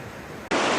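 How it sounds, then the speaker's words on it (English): Strong river water rushes through the Narrows slot canyon in Zion, a loud, dense broadband roar that surges abruptly louder partway through a brief moment. "I'm literally using all my strength just to walk against the water."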